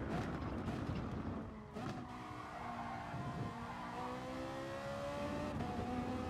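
Ferrari race car engine in GT Sport, droning steadily at high revs with rising and falling pitch, loud and close, with a brief dip near the start and faint tire scrubbing underneath.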